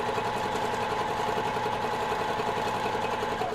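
A sewing machine stitches a small fabric hanging tab for a quilted potholder, giving a steady, fast mechanical whir and needle chatter; close and continuous, with no talking.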